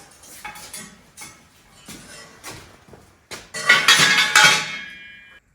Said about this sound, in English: now the body slash chassis swivels on the rotisserie stands